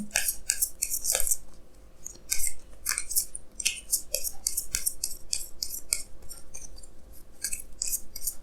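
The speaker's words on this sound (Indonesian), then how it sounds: "Jadi sini saya akan tarik lagi 2 kartu tambahan." Tarot cards are shuffled and drawn in quick succession. Crisp papery flicks and snaps repeat close up over a quiet background with no talk.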